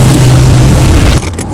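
A $30 million car's engine roars loudly at high speed, a dense close rumble held steady before it drops off abruptly near the end.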